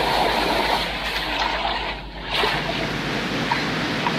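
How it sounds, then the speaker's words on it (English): A waterfall at a steep gorge campsite near Mount Surprise, heard as a steady, loud broadband roar of falling water that barely varies, with a brief dip midway and no voices. "You got the waterfall behind us, see?"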